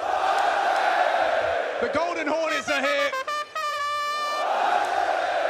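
Large arena crowd at a Counter-Strike esports major in Paris roars and cheers loudly throughout, with a sustained trumpet-like tone rising over it midway and a commentator's voice speaking on top.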